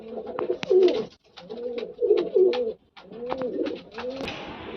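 Pigeons in a loft coo in repeated low throaty bursts, several calls in quick succession with short pauses between, close and clear with no talk.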